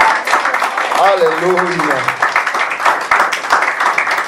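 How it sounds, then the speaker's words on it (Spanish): Church congregation applauding during a Spanish-language worship service, dense clapping running the whole time while a voice calls out over it. "Un aplauso"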